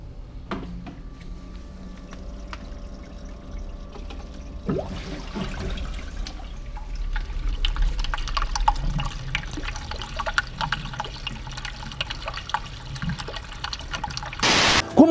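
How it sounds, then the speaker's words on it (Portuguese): Water from a marine reef aquarium drains over a full-width glass overflow into the sump, a steady trickling, splashing flow that grows louder and busier partway through, alone with no voices. "a água vai descer por um vidro que tem a largura total do aquário, e o ladrão vai geralmente ser um vidro atrás dele"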